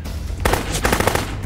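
Automatic gunfire in Dead Rising Deluxe Remaster: dense, loud bursts of rapid shots after a brief lull, continuing steadily through the moment with no talk.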